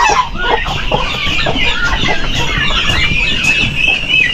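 Chickens and chicks cluck and peep steadily on a small Filipino farm, a dense continuous chorus of fowl calls close by with no talk.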